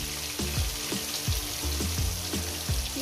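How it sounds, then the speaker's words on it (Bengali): Pieces of rohu fish fry in hot oil in a pan, a loud continuous sizzle and crackle with occasional soft spatters and pan knocks, close up with no voices. "ঠিক এইভাবে আমি ভাজাটা করে নেব।"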